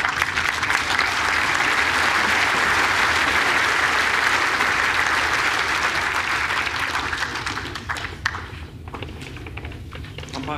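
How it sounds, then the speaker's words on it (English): Applause and clapping ring out at an indoor bowls championship match as a bowl runs toward the jack, a sustained crowd ovation that tapers off near the end with a few scattered claps. "But Alex Marshall's clapping this ball in."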